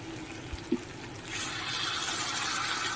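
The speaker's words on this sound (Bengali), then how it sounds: "এবার আমি একটু জল দিয়ে দেবো" Water is poured into a pan of simmering Bengali egg curry. A couple of soft knocks come first, then a continuous close splashing rush of liquid that carries on to the end.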